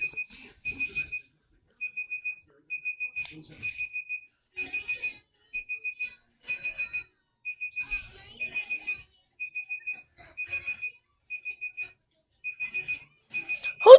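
A digital timer alarm rings in repeated bursts of quick high beeps, evenly spaced groups continuing for the whole stretch, clear and fairly close in an otherwise quiet room.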